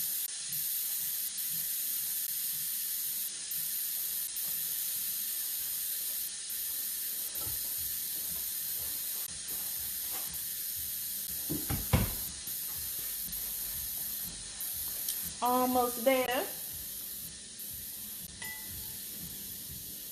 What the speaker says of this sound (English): Stand back from your Instant Pot when you're releasing the steam.